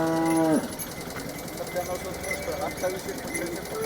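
A cow at the Modnimb cattle market gives one loud, drawn-out moo at the start, followed by a noisy crowd and chatter, with people talking throughout.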